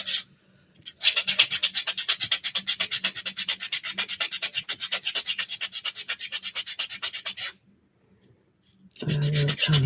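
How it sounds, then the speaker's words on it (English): A buffer rubs quickly back and forth across fingernails before polishing, making a steady run of rhythmic, raspy strokes close up. It stops briefly, then resumes near the end. "Okay, we got them all buffed up."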